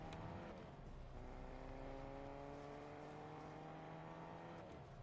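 Steady engine drone of a car driven in Fortnite, continuous and fairly loud with smooth pitch shifts as it speeds up and eases off, no talking.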